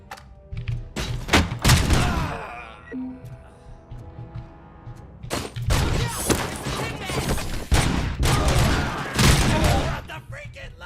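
Bursts of Tec-9 submachine gun fire crackle in RoboCop: Rogue City, loud clustered volleys separated by short pauses, with impacts and clatter mixed in and no talk.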